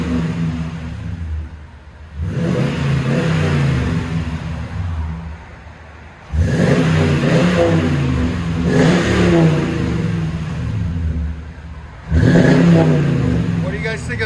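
A 2010 Toyota Tundra with a 5.7L V8 and a Flowmaster Super 50 exhaust is revved in three long, loud, close bursts, each rising and holding before dropping back to a rumbling idle between them.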